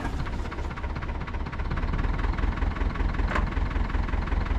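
Tractor engine running as it creeps forward, a steady loud low diesel rumble with a knocking throb that grows slightly stronger partway through, no talk.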